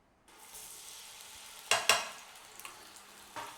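Two tablespoons of garlic hit a hot pan and sizzle, followed by stirring with a couple of sharp scraping clatters and a steady frying hiss.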